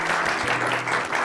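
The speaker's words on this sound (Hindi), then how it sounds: "जोरदार तालियां इनके लिए" Applause from an audience at a health centre event in Bihar: a short, dense burst of many hands clapping together, fairly loud and steady, with a low hum underneath.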